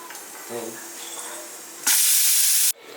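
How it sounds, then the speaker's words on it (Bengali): A pressure cooker on the stove, cooking whole masoor lentils after three whistles, lets out a sudden loud hiss of released steam that lasts under a second before cutting off sharply, following quieter kitchen background noise. "তো আমার তিনটে সিটি হয়ে গেছে কুকারে এবার আমি নামিয়ে রেখে দিচ্ছি"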